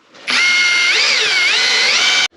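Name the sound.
power drill drilling on a welding table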